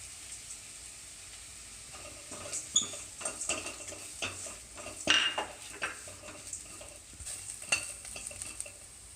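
A spoon stirring Kerala-style dal fry mixture as it dries in a pan: soft scraping and clinks of utensil on metal at irregular intervals over a faint steady sizzle.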